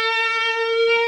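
A short sustained electric guitar note with vibrato that drifts slightly sharp and stays there, close and alone.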